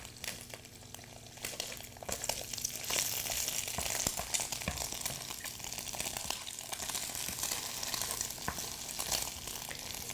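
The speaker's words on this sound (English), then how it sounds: "So we have to fry like this" Eggs and rice fry in an oiled pan for fried rice with chili beef and shrimp, a steady close sizzle with scraping stirs and clinks running throughout, growing louder after the first few seconds, with no talking.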